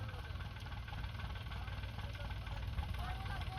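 A steady, low engine rumble runs throughout, with mechanical knocking and vibration; faint voices sit beneath the noise.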